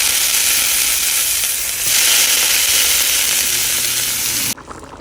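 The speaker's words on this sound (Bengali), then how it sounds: "এখানে তেল গরম হয়ে গেছে মিষ্টি আলুগুলো দিয়ে দেবো" Sweet potatoes drop into hot oil and fry with a loud, steady, close sizzle that holds for several seconds, then cuts off abruptly near the end.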